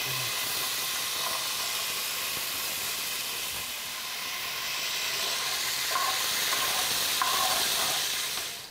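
Garlic fries in a generous amount of oil in a pan, giving a constant close sizzling hiss with a few faint stirring clicks near the end.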